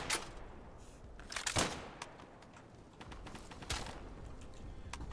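Scattered gunfire from the World War II shooter Day of Infamy on a beach map, heard as distant bursts and single shots at a fairly low level, with a few sharper cracks standing out.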